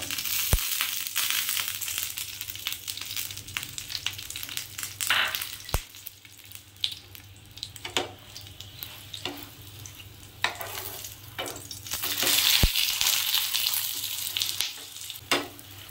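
A paneer cheese pocket paratha frying in oil on a hot pan, steady bright sizzling with scraping turns and occasional sharp knocks, close and alone.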